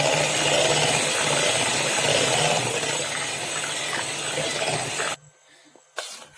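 A kitchen blender churns ghevar batter with lemon juice, a loud, steady whirring roar that runs for about five seconds, then cuts off abruptly, followed by a short clatter.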